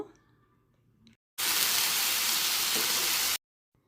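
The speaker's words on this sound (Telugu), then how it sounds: "ముందుగా ఉడికించుకున్నటువంటి మటెక్కాయల్ని తీసుకొని ఈ తాలింపులో వేసి ఒక త్రీ మినిట్స్ వరకు బాగా ఫ్రై చేసుకోవాలి ఆయిల్లో" Boiled beans dropped into hot oil with a tempering give a loud, steady sizzle lasting about two seconds, alone and close by, after a quieter stretch of faint kitchen sounds.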